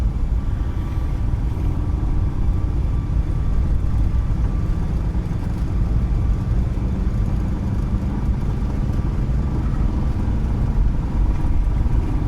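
iFly 737 Max engines at takeoff thrust in Microsoft Flight Simulator on an Icelandair departure from Keflavik, a continuous loud low roar and rumble holding steady throughout, alone with no voices.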